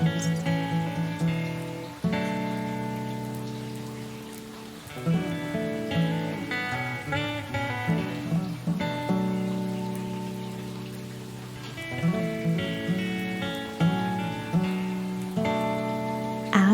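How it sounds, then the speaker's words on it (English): Rain taps steadily against a window, a soft patter running under gentle tonal music throughout. "the rain still tapping on her window"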